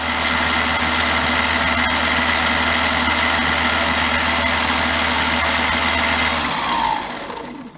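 A Harbor Freight mini lathe taking a light ten-thousandths cleanup cut, its motor humming and whining steadily and loudly at close range, then winding down near the end.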